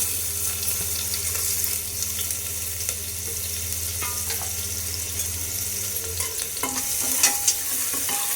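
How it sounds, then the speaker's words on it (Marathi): Finely chopped onion frying in a spoonful of oil for mutton rassa, stirred steadily: a close, constant sizzle with scraping and occasional clinks, with a watery hiss in the background. "कांदा चांगला परतून घ्यायचा।"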